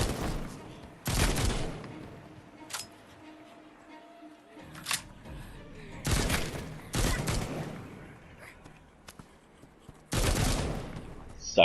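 Assault rifle fire in The Walking Dead: Onslaught VR game comes in three dense rapid bursts of a second or so each, loud and close, separated by quieter stretches with scattered single clicks and thumps.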